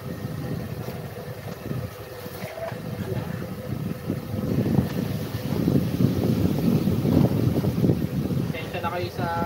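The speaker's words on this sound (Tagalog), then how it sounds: "Tensya na kayo sa ingay ng hangin." Strong stormy wind roars against the microphone, growing louder midway and staying heavy, with a person talking underneath and faint outdoor noise around.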